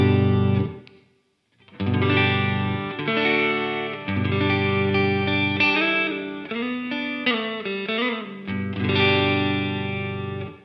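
Overdriven electric guitar played through a Wampler Belle Overdrive pedal into a Fender Deluxe Reverb with V30 speakers, strummed chords and short riffs with a crunchy, edgy tone and a brief pause near the start.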